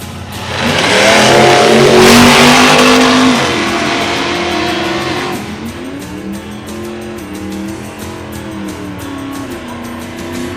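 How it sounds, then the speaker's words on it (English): An LS-powered Model A sedan launches down a dragstrip at a reunion event, its V8 roaring loudly with a rising, surging rev, then fading into a lower drone as other engines rumble and shift in the background. "that LS-powered Model A sedan"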